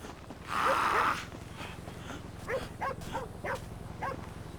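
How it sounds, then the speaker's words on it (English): A dog in the video game GTA 5, Michael's family dog, gives one loud bark followed by several shorter, quieter barks spaced out in an uneven rhythm. "Man, that's a cool-ass dog you got, homie."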